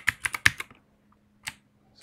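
Typing on a computer keyboard: a quick run of about six close, crisp key clicks, then two isolated keystrokes after short pauses, with no talk.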